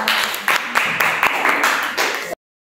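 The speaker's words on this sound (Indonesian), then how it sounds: "Tepuk tangan." Students in a classroom lesson clap together for about two seconds, a dense burst of handclaps that fills the room, then stops abruptly into silence.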